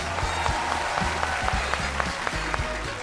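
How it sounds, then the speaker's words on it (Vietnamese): A studio audience at a Vietnamese dating show claps to welcome the contestants, a brief burst of brisk, crisp applause that holds steady and close for a few seconds. "Hãy dành một tràng pháo tay để cùng chào đón 9 cô gái độc thân và chị dễ của chúng ta."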